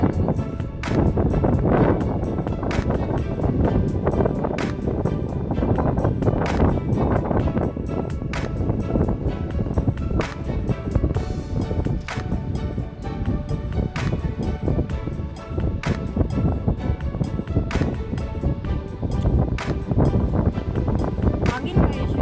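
Strong gusting wind buffets the microphone at a small farm in Kuwait, a continuous loud rumbling roar with no pause, and a voice talks over it.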